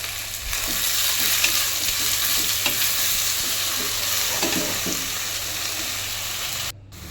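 Chopped spinach roasting in a hot pan for palak chitranna gives a constant loud sizzle, with faint scraping strokes of stirring throughout.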